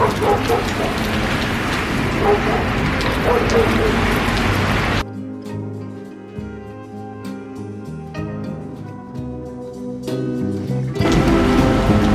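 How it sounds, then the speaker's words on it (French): Steady rain falls over Marseille as a dense, close hiss for the first five seconds, gives way to a quieter stretch with tonal sounds and faint voices, then the downpour swells back in at the end. "il ne s'arrête jamais de pleuvoir"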